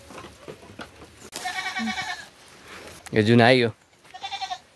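Goats tethered in a Nepali village bleat in a loud, wavering cry and then a shorter call, amid nearby talking and outdoor background sound.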